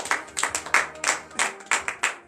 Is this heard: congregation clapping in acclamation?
yes